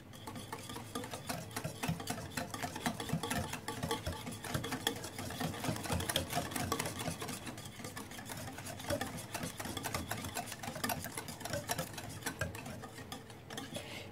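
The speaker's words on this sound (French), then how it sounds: "On doit mélanger." Apple cake batter being mixed in a bowl, a steady continuous scraping and stirring with a fast regular ticking rhythm, close and fairly quiet, with no talking.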